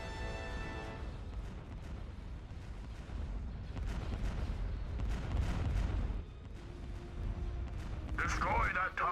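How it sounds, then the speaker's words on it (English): Starship cannons fire in the Star Wars strategy game Thrawn's Revenge, a steady barrage of muffled booms and blasts rumbling continuously under game voices and talking. "Fire all cannons"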